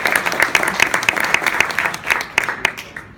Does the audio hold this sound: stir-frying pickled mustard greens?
no